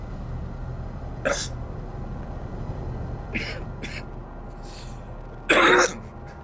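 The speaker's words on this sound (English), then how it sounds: "have to forgive me coughing and what have you" A man with flu coughs a few times, short separate bursts spread over several seconds, the last one loudest and close to the microphone, over a low steady background hum.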